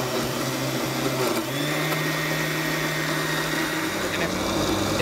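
A kitchen blender chops yogurt, peanut butter and banana for a breakfast smoothie, running loud and steady with a constant motor whine and churning, close and alone, with no talking.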